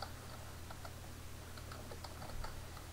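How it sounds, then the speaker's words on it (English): Quick, light keystrokes on a computer keyboard tap out a short word, soft clicks in an irregular burst over low room hum. "So in the search box, I'm going to type Synergy."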